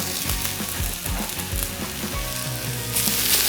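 Kale frying with onions in a hot pan gives a loud, continuous crackling sizzle, close up, with soft thumps and scrapes as the greens are moved, and no talking.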